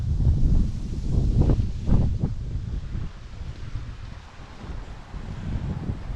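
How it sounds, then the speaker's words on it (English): Steady low rumbling buffet of wind across a microphone outdoors in Magaluf, Mallorca, broadband and continuous, swelling and easing slightly with no voices. "we've noticed it being so windy, and I'm sure it's playing havoc with the sound"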